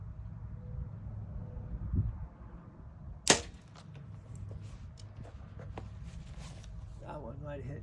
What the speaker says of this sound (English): I heard that one hit another arrow.